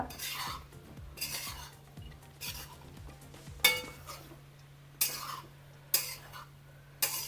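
Sago upma being stirred in a pan, heard as a quiet scraping of a spoon with regular sharp clinks against the metal at roughly one-second intervals over a faint sizzle.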